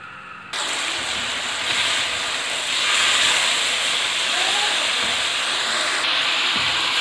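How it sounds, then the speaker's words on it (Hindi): Chicken frying in hot oil for butter chicken gives a loud, continuous hiss that jumps in abruptly and holds steady throughout, alone with no talk. "इस ऑयल में हम इसको फ्राई कर लेंगे चिकन को अच्छी तरह से"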